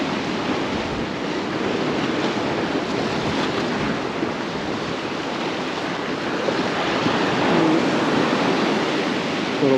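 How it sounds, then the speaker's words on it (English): Sea waves break and splash against the rocks below a Cornish cliff at a rock fishing mark, a dense continuous wash of surf with wind buffeting the microphone and swelling louder toward the end. "Every now and again big sets comes in, splashes all over."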